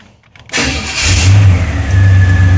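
A car engine cranks and catches, a loud close start that quickly settles into a steady, strong idle with a low hum, and no voices.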